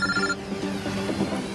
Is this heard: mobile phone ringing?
yes